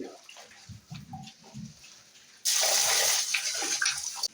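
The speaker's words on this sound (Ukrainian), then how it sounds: "Налємо їм водички." Water poured for farm animals, quiet shuffling and faint animal sounds at first, then a loud steady gush of water that starts abruptly and runs to the end.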